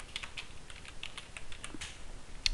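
Quiet, close typing on a computer keyboard, with light irregular key clicks spread across a couple of seconds and a slightly sharper tap at the end.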